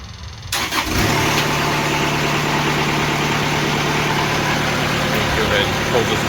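Sawmill engine cranks and catches, then settles into a steady, loud idle running close by with a constant hum.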